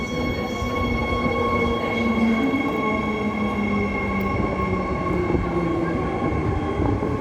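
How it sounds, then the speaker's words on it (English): A train on Perth's Ellenbrook Line runs toward the city from Midland, heard from on board as a steady, loud rail rumble with sustained wheel-and-motor tones throughout. "There's a train heading to the city from Midland."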